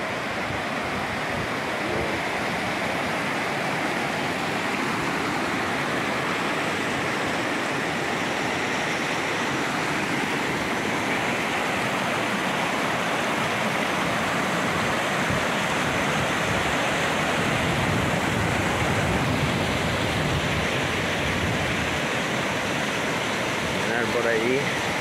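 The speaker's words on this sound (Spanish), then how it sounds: "por donde baja todo el agua" Rushing water from the río Mundo springs waterfall at Riópar pours in a steady, loud, broadband roar that stays constant throughout, with wind buffeting the microphone.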